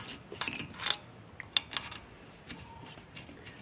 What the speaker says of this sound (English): I'm going to take the alignment pin out.